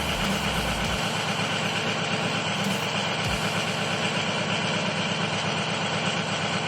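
A diesel engine with failing injectors idles steadily at about 1,000 RPM, a loud continuous close rumble with an even texture and no talk.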